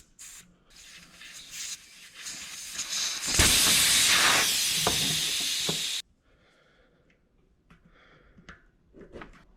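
Tubeless mountain bike tire being reinflated, loud steady rushing air hiss building over a few seconds and then cutting off sharply, followed by faint handling rustles and clicks.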